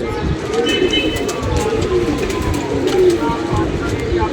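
Pigeons coo repeatedly close by while people talk over them, with some rustling and flutter in the background.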